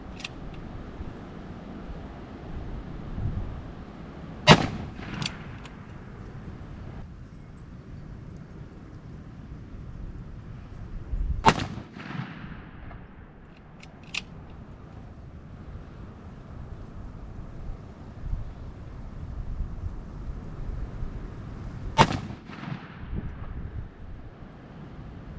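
Three sharp, loud shots from a new .41 Magnum Ruger Blackhawk revolver fired at targets 20 yards away, spaced several seconds apart over steady outdoor wind noise.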